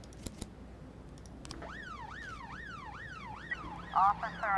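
Ambulance siren in the police management game This is the Police, a wailing up-and-down electronic tone that starts after a moment and repeats steadily, fairly loud, with a few faint clicks.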